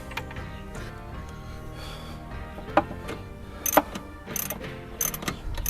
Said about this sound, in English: I've got a 1/4 inch drive ratchet with a 12mm socket